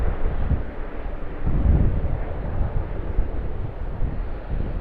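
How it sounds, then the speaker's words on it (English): A Link Airways Saab 340 turboprop at Sydney Airport gives a steady broadband engine roar, carried under gusty wind buffeting on the microphone, holding at a constant moderate level with no voices. "A Link Airways Saab 340"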